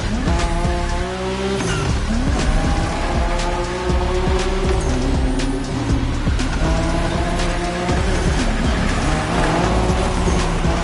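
Tires squeal continuously as a car drifts in the racing game The Crew Motorfest, the engine roaring loud and steady beneath the long skidding screech.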